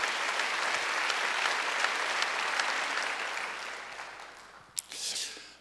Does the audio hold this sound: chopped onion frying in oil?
no